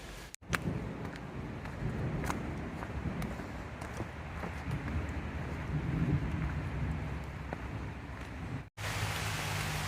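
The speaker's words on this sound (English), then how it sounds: "And we're getting the rain showers." Steady rain shower patters outdoors on a hiking trail with a soft, constant hiss, broken by a few sharper taps and a brief dropout near the end.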